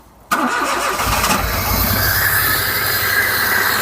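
A Rover 75 engine with one cylinder disconnected catches after a brief quiet start, then runs loud and steady with a rough, uneven idle for the rest of the clip.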